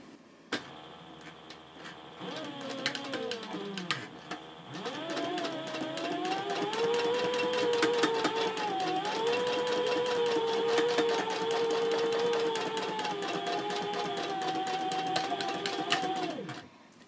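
A sewing machine runs steadily top stitching a fabric handbag at a 4.0 stitch length, a close rapid whirring hum with mechanical ticking that starts and pauses briefly, then sews continuously to the end.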